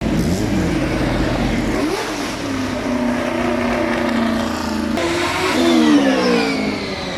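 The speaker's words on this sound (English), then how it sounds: "stand next to the hill climb and watch the cars and motorcycles speed up" Cars and motorcycles accelerate hard up the Goodwood hill climb at the Festival of Speed, engines revving and rising in pitch as they pass one after another, loud and close.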